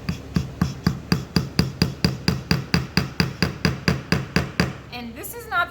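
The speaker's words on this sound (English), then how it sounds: "So there's my nail. I'm gonna hammer it in." A nail hammered into a wooden string art board: about twenty quick, even taps in a steady rhythm, close and crisp, ending with a short voice afterward.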